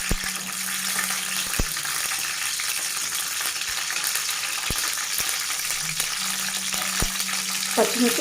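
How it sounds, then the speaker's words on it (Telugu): Green chillies fry in about four tablespoons of oil in a pan for a coriander chutney, a constant hiss of sizzling punctuated by occasional sharp clicks and scrapes of a utensil against the pan. "పచ్చిమిర్చి కొంచెం ఫ్రై కావాలండి."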